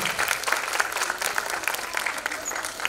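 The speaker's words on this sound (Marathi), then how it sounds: "त्यांच्यासाठी एकदा जोरदार टाळ्या झाल्या पाहिजेत." An audience applauds an award guest being welcomed onto the stage at an awards ceremony, with steady, dense clapping that carries through the whole stretch and no voices over it.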